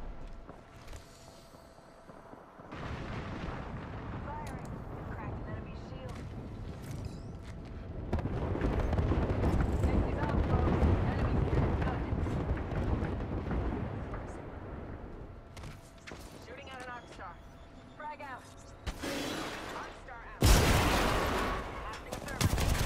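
An artillery barrage strikes in Apex Legends: bursts of heavy booming impacts and gunfire arrive in waves, a long rumbling stretch in the middle and loud sharp blasts toward the end.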